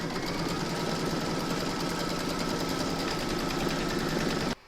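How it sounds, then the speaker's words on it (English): An embroidery machine stitches a quilting round on a runner, a fast, even mechanical chatter of needle strokes running close and steady before cutting off sharply at the end. "Pop your hoop into your machine and stitch round number 4."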